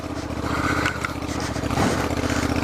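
A Honda NC700XD DCT motorcycle rides off-road on a rough trail near Tray Mountain and Helen, Georgia. Its engine drones loud and continuous close by, with slight rises in pitch and a brief scrape.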